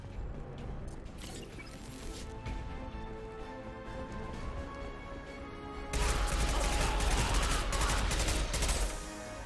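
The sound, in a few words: SMG gunfire in Mass Effect 2 video game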